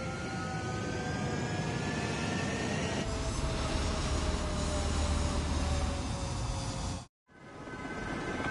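A military jet takes off in Ace Combat 7, its engine roar building into a loud, steady rushing thrust with a descending whine, sustained for several seconds before cutting off abruptly.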